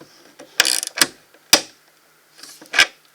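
A 1/4-inch drive ratchet from a socket kit fastens a nut, giving short bursts of close, rapid clicking in several separate strokes with quiet gaps between them.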